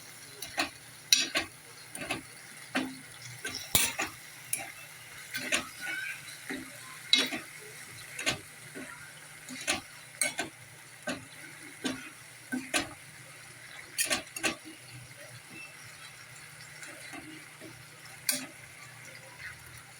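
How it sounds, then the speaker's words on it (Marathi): A spoon stirs a soy sauce mixture for paneer chilli in a pan, with irregular scraping clinks over a faint sizzle, close and moderately quiet with no talk. "आता आपण टाकणार आहे सोया सॉस तर आपण सगळे सॉस टाकून झालेले आता एक मिश्रण आपण एकत्र करून घेऊया"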